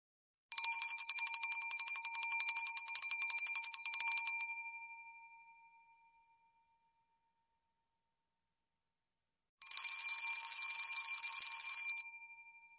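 A school's last bell rings at a 2020 graduation ceremony, a bright, rapid handbell clang that sounds steadily for about four seconds, stops for several seconds of silence, then rings again for a shorter burst.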